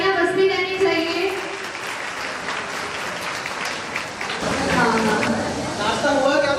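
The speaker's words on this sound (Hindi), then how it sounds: "प्लीज तालियां बजती रहनी चाहिए।" An audience applauds at a seminar on hair spa and hair cutting, with dense, steady clapping that fills the room for several seconds while voices carry over it.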